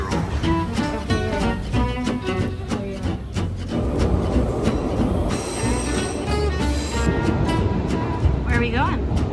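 Passenger train running on rails between London and Paris, a steady rumble and clatter with metallic squeals and tonal hums throughout, while people talk faintly over it.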